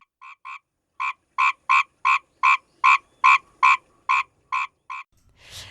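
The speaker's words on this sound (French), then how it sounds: "Voilà, donc des sons de grenouilles non identifiés." Unidentified frogs give a regular series of about a dozen loud, short croaks at an even rhythm, close by and alone against a quiet background.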